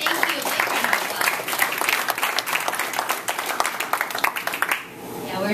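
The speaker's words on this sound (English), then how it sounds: "A big round of applause." A dinner crowd at a Stanford engineering event gives a warm round of applause for the teaching team, dense clapping from many hands that fades out near the end.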